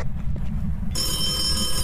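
An in-game telephone rings in the Phasmophobia ghost-hunting game, a loud, steady electronic ring that starts about halfway through and continues over a low background rumble.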